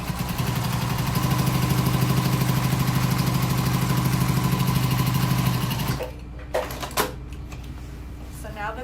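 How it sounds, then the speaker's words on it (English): A sewing machine runs steadily for about six seconds, stitching down the bottom of a slouchy tote bag at a slightly shorter stitch length, then stops and leaves a few light handling clicks and rustles. "We're just gonna sew down the bottom of the bag."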